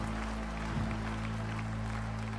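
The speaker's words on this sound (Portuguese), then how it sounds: "Pode aplaudir e glorificar." A church congregation applauds in a steady, dense wash of clapping, loud and continuous over a constant low hum, with no gaps.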